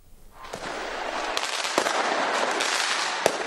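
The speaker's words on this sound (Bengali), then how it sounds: "জমকালো আতশবাজি আর বর্ণিল আলোকছটায় রঙিন ঢাকার আকাশ" New Year fireworks burst over Dhaka at midnight, a distant continuous crackle and rumble punctuated by several sharper nearby bangs, rising from quiet into a sustained roar with no talking.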